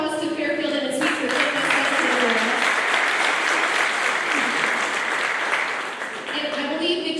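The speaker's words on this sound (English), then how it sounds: "So a quick round of applause to Fairfield and its speaker." Audience members at a tourism marketing workshop give a sustained round of applause that swells and briefly dips before continuing, with a voice speaking over the start and end of the clapping.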